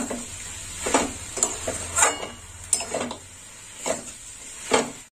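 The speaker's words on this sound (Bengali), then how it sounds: "দিয়ে দিলাম বড়ি আর উচ্ছে, আর একটু নেড়ে চেড়ে নেবো।" A utensil stirs fried bitter gourd and lentil dumplings in a pan, with a series of close scraping and clinking strokes at an uneven rhythm over a faint background sizzle.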